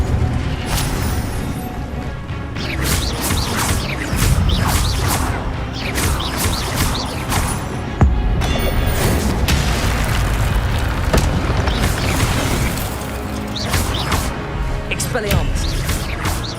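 Fiery spell blasts from the Incendio charm in Hogwarts Legacy boom and crackle repeatedly through a dense, loud game mix, with music and effects underneath and no clear talk.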